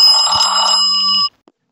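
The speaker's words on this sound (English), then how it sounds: "going to make that phone call to this phone, and I'm going to answer the phone" A phone rings loudly up close for an incoming call, a bright, trilling electronic bell tone held for about a second before it cuts off abruptly, followed by a faint click.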